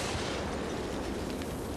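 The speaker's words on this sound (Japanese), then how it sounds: "あ、爆発した。" Battlefield 4 gameplay with a dense, sustained wall of rumbling battle noise like an explosion and artillery blasts, loud and continuous throughout with no talk over it.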